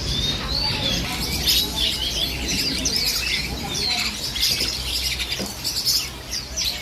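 A yellow pet bird chirps steadily up close, its high tweets and warbles running continuously over a busy indoor background.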